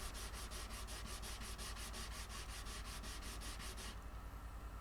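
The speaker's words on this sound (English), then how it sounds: "Now I'll go through 120, 220, 320, and 400 grit sandpaper." Rapid, rhythmic back-and-forth scratching of sandpaper on wood, close and steady, continuing without pause.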